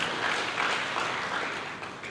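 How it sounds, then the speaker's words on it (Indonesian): A church congregation applauds steadily in a dense, sustained burst of clapping that fills the room at close range throughout, with no voices rising above it. "Mereka tepuk tangan yang meriah buat Tuhan."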